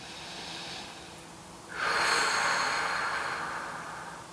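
Slow, deep breathing during a yoga session: a faint airy exhale fades out, then a louder, longer breath swells in from about the midpoint and tapers off slowly, close and alone with no talk.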